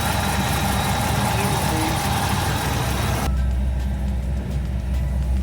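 A Chevrolet Camaro ZL1 engine idles steadily after a DSX Atlas fuel system install, a constant low rumble heard close up; the broadband noise drops off sharply partway through, leaving a quieter, smoother idle hum.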